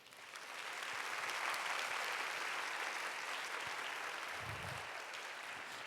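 Sustained applause from a large church congregation fills the room, steady and loud for several seconds with a brief low thump near the end.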